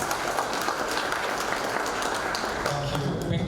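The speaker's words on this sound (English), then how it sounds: "Big round of applause for Dr. Maffei." Audience at a Friday drinks debate event on 2024 economic policies gives a round of applause for a speaker, a steady dense wash of clapping filling the room throughout, with some voices mixed in.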